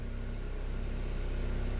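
A 1999 VW Passat engine idles steadily with a stuck mass airflow sensor reading, a constant low rumbling drone heard close and alone without any variation in pitch.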